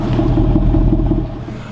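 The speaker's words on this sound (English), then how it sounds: "Love that burble of the exhaust." A 2013 Ford Mustang Boss 302 V8 idles with a deep, loud exhaust burble, a steady low throbbing pulse close by that eases slightly toward the end, with no talking over it.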